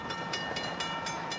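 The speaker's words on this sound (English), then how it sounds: "You can hear the oncoming train chugging down the track." An oncoming train chugs down the track at a crossing where cars are stuck, a loud steady roar with regular rhythmic pulses about every quarter second, close and building.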